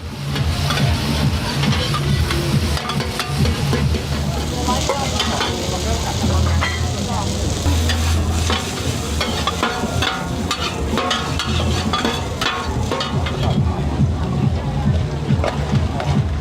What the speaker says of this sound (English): This stir-fried rice noodle dish with vegetables, eggs, and either meat or seafood is cooked with plenty of sauce in a wok or a pan.